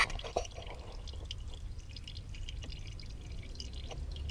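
Engine oil draining from a Toyota Aygo during an oil change, a faint steady trickle with occasional drips, quiet and continuous with no talking.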